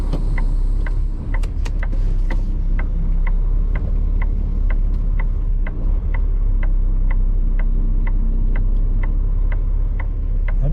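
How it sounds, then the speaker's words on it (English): A trailer is pushed back with a steady, loud low rumble underneath and a regular ticking or clicking that repeats about twice a second. A few sharper metallic ticks come early on, and no one speaks. "Just pushing that trailer back."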